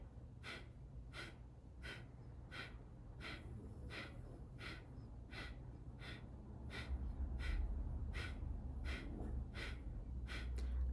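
Kapalabhati breath of fire practice: quick, forceful nasal exhalations in a steady rhythm of about one per half second, close and fairly quiet over a low hum.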